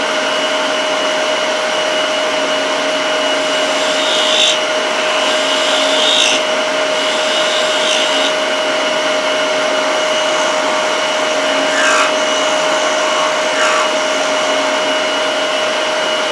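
A wood lathe spins an aluminum pen blank mounted on bushings while a tool takes fine cuts close to the bushing. The motor gives a steady, close, continuous whir with a faint scraping hiss and a few slightly brighter swells, and no one speaks.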